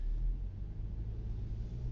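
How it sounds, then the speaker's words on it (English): A car approaches along a road, a low, quiet rumble that stays steady throughout, heard from inside a vehicle with no talking. "There's a car coming."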